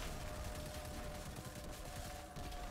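Gunfire in Destiny 2, a dense, continuous stream of rapid automatic shots heard at low volume throughout, with no talking over it.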